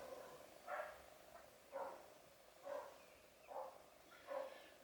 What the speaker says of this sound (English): The dog's barking here